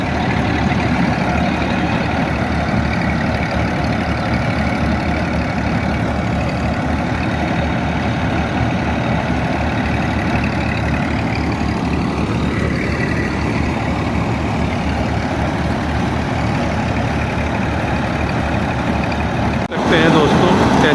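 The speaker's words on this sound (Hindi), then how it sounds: "ट्रैक्टर चल रहा है।" A tractor engine runs steadily in a paddy field during rice harvesting, a constant loud low drone that holds throughout, with a sharp jolt near the end.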